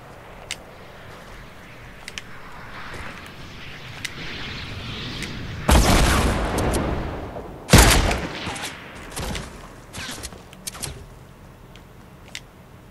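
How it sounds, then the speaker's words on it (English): Gunfire in the video game Fortnite: sharp rapid volleys of shots, with two heavy bursts standing out over steady game ambience and scattered single cracks, no talking. "there's someone shooting at us from this direction"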